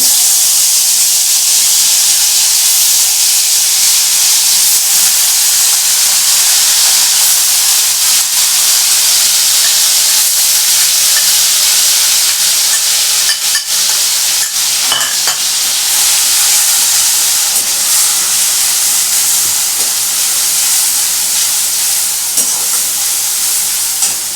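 Marinated, spiced mutton keema sizzles loudly in a hot pan, a dense continuous hiss and crackle with occasional stirring scrapes.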